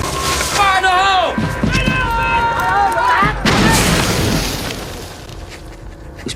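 Blast in a jungle war setting around 1970, following a shouted warning. Tonal voices and sounds come before a loud, close, broadband boom that rolls off into a fading rumble.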